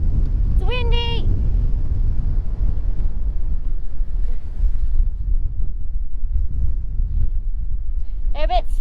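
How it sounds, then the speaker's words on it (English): Steady low wind rumble buffets the microphone throughout, with brief high whistling chirps near the start and end. "It's windy!"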